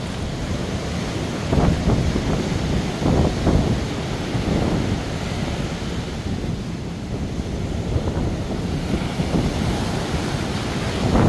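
Ocean surf washing up on an eroded Acapulco beach where the water reaches the buildings, a steady roar of waves with several louder surges, heavy wind buffeting the microphone, no talking.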